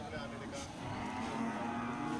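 Cattle, including Simmental bulls, moo several times at moderate distance over a busy outdoor hum of livestock and background noise at a livestock market.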